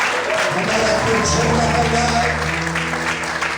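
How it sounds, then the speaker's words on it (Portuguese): Congregation applauding the Lord during an evening church service, steady loud clapping throughout while music or voices carry on underneath. "Será que você pode aplaudir o Senhor nessa noite?"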